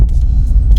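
A learner driver's car pulls away from a stop in a 20 mph zone during a UK driving lesson, giving a steady low engine rumble that lasts under a second with no talk.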